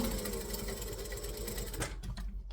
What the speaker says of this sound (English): back stitch, jump to the other side, stitch, back stitch, and then do the other side.